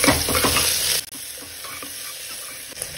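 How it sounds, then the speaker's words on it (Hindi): Onions frying in a pan for masoor dal khichdi, with broadband sizzling and stirring scrapes that are loudest in the first second, then a steadier, quieter hiss with small clicks. "अब मैं प्याज भी डाल लेती हूँ, प्याज को भी भून लेंगे थोड़ा सा।"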